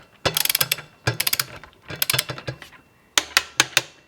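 Ratcheting torque wrench tightening the wheel of a Kawasaki ZX6R motorcycle to 20 foot-pounds: loud, close bursts of rapid clicking in four quick runs separated by short pauses.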